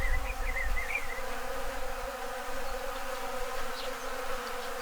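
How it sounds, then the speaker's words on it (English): Bees swarm around a refilled water source in the outback to drink, a dense, steady buzz of many insects close by, droning without pause and with no voices. "They're just swarming around to drink."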